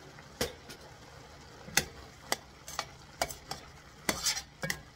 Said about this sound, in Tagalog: Halo-haloin natin yan.